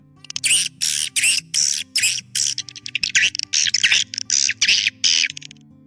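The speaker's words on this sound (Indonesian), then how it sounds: "Suara walet yang bagus dan berkualitas juga merupakan suara yang sering ditiru oleh burung walet asli" Rapid, loud bursts of high, buzzy chirping calls from swiftlets, repeating in quick pulses against a faint low electronic hum.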